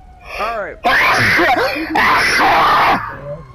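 A person lets out a loud, drawn-out sneeze with a strained vocal burst, close to the microphone, alongside other voices talking.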